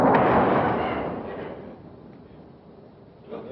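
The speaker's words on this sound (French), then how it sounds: "Une détonation sourde suivie d'une autre explosion." A muffled, deep detonation from a shelled munitions depot at a barracks rolls out loudly and slowly fades over a couple of seconds, then a second boom starts to rise at the end.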